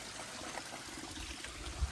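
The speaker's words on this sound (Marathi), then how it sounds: "बघा इथून पाणी येतोय तो." Water trickling out from between rocks on a hillside after monsoon rains, a steady soft close gurgle with no voices.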